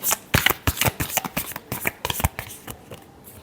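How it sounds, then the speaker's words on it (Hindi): Tarot cards are riffled and shuffled up close, a rapid run of crisp flapping snaps that slows and fades toward the end. "सॉरी, बहुत सारे कार्ड्स गिरे हैं, एक शफल और करते हैं।"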